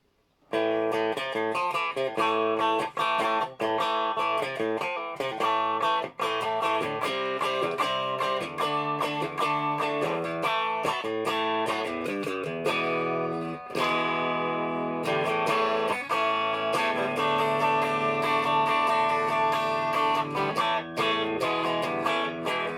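A Fazley FJA518SB Jazzmaster-style electric guitar plays continuously in a bright, twangy clean tone through its bridge P90 pickup, mixing strummed chords and picked notes with crisp attacks, no talking.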